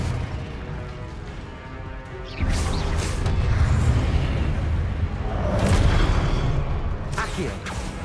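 Confringo blasting spell explosions in the video game Hogwarts Legacy: repeated loud booming bursts over constant combat noise, with a big surge partway through and further blasts toward the end.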